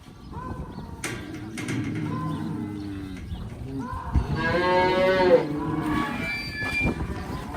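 Cattle on a farm, a group of cows being sorted, moo repeatedly in drawn-out calls, one loud and close near the middle, with other lowing and shuffling throughout.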